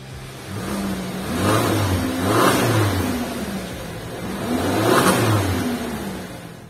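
A 2022 Subaru Forester with all-wheel drive accelerating hard from a standstill toward 100 km/h, its engine swelling and easing through several loud rising surges as it shifts, heard up close with no talk.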